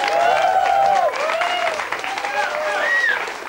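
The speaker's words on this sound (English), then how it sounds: "Give Helen a nice round of applause." A studio audience on a 1994 talk show applauds steadily throughout, with voices and a few tonal, whistle-like lines riding over the broadband clapping.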